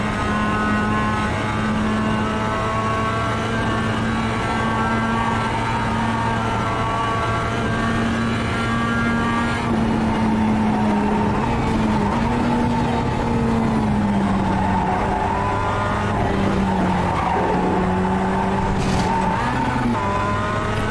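Mazda MX-5 race car in iRacing at Mount Panorama, Bathurst: a steady, loud engine drone holds through the clip, with gear changes and short tire squeals as the car brakes and corners, and no talking.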